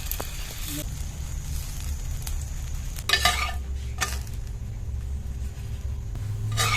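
A paratha fries in a pan, giving a steady soft sizzle over a low rumble. A couple of louder scraping bursts cut in partway through.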